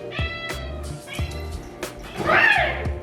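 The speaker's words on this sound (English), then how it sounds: "Okay, so now I'm gonna be feeding my cat." A house cat meows repeatedly before being fed in the morning, several short close calls with a longer drawn-out cry near the end, alongside light household clatter.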